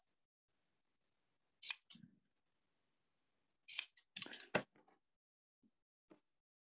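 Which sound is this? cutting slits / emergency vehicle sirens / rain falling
cutting slits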